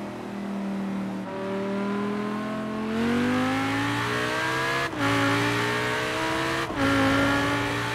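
Audi RS6 police car in Forza Horizon 4 revs hard and climbs through gears, its engine note rising in steps with brief dips at each shift, loud and continuous.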